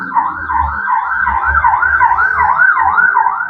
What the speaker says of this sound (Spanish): esperemos a que pase la ambulancia